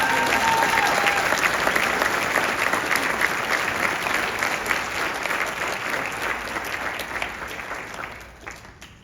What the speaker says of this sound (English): Please join me in another round of applause for Mrs. Morgan as this year's faculty.